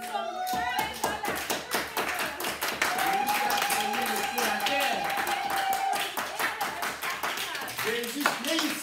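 A church congregation claps in a steady, rhythmic beat while voices sing along, the hand claps crisp and evenly spaced throughout.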